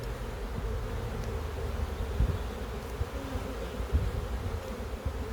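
Honey bees buzzing on a frame lifted from an open hive during an inspection, a dense continuous drone close by with occasional light knocks, no voices.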